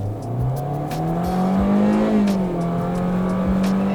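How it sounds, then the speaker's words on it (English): A 2022/2023 Hyundai Venue's engine accelerates under load, its loud, thrashy, buzzy drone rising steadily in pitch then levelling off, heard from inside the cabin over road noise with no talking. "The engine is kind of loud, a little thrashy, a little buzzy."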